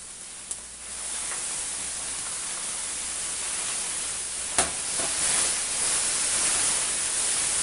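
Garlic and onion frying in a pan for a tofu and vegetable stir-fry, heard as a steady, close hiss of sizzling with a faint clack or two, no talking.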